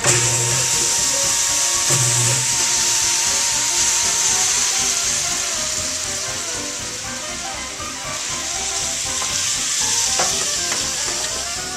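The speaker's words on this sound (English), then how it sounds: "Every once in a while you want to turn the mixer on just to mix it up a little bit more." A Cretors CMD 100 caramelizer mixer churns caramel popcorn with a steady, loud sizzling, hissing and rattling, close and continuous throughout.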